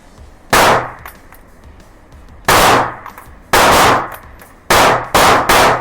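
Five sharp, loud pistol shots from a ported CZ P10C, fired close by at uneven intervals, the last three coming in quick succession, each leaving a short ringing tail.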